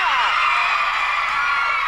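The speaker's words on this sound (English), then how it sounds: "Screams and shouts" A CBBC 1990s children's game show studio audience screams, whoops and cheers loudly and continuously, a dense bright wall of young voices.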